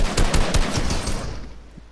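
Rapid gunfire in a video game, a loud burst of closely spaced shots that thin out and fade toward the end, with no talking over it.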